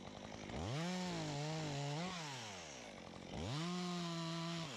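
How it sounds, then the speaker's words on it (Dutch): Loud chainsaw cutting branches off a large spruce while climbing in a garden, the engine revving up, bogging slightly through the cut, dipping briefly, then roaring back up at full throttle, close and alone. "Takken zaag ik af."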